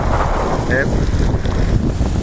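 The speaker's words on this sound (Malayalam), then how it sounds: "നല്ല കാറ്റുപോലുള്ള ദിവസമാണ് ഇതൊക്കെ" Strong wind gusts at a waterside during flooding, roaring and buffeting the microphone with a dense, continuous rush over the full stretch.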